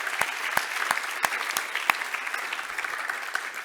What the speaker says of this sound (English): Let's give them a big round of applause too